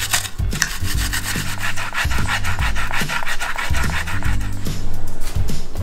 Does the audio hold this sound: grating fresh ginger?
yes